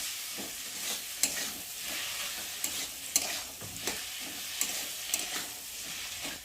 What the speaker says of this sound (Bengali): ভালো করে মশলাটা কষিয়ে নেব ততক্ষণ না মশলার গন্ধটা যায়